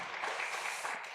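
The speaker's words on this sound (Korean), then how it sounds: "우리 박수 한번 해주시면" A congregation applauds during a Sunday church worship service: a steady wash of soft, dense clapping held for just over a second at a moderate distance, with no voice over it.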